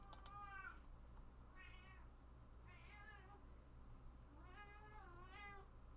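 A cat meows four or five times in a quiet room, rising and falling drawn-out calls spaced about a second apart, fairly faint against a low steady hum.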